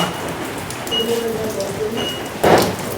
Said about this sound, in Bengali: দেখেন ভাইরা অকালে হচ্ছে বৃষ্টি